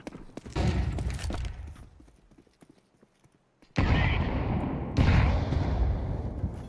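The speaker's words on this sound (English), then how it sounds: "Throwing flashbang." A flashbang thrown in a Counter-Strike 2 match: light in-game movement gives way to a brief near-silence, then two loud, sudden bursts with a ringing, hissing tail.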